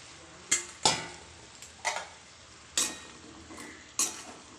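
Winter vegetables are stirred into cooked spice paste in a pan for a fish and vegetable curry, with several sharp spatula scrapes and clinks over a faint sizzle, close by, with no voices.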